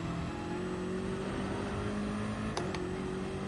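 Engine of a race car in Gran Turismo 7 drones steadily at a constant pitch, with a bright turbo whine riding above it, broken once by two short sharp high transients near the end; no talking.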